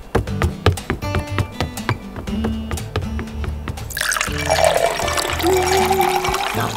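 Ice cold water is poured, starting after a few seconds as a steady splashing rush with a rising filling tone, over background music.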